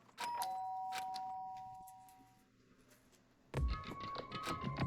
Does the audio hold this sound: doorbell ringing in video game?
yes